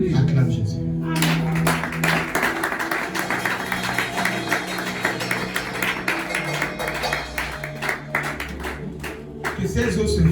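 A church congregation claps for Jesus during a worship service, with dense, sustained applause mixed with music and voices throughout.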